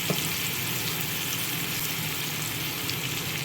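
Ground spices, turmeric and chili powder frying in oil for a fish curry, a dense steady sizzle close up with faint stirring, no talking.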